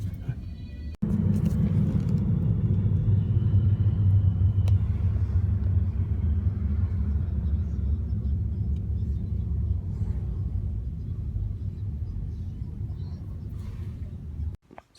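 Steady low road rumble inside an Uber car moving through Abu Dhabi, a continuous engine and tyre drone filling the cabin for the whole stretch after a brief quiet start.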